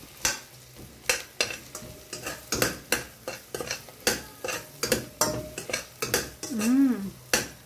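Pork goes into a pan of browned garlic and onion with butter as a spoon stirs, scraping and knocking against the pot in a steady rhythm over a low sizzle, close up.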